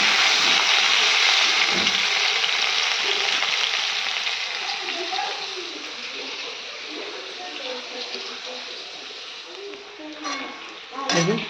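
Potatoes fry in a pan with a loud, dense sizzle that gradually settles, broken by a few stirring knocks and a sharp clatter near the end.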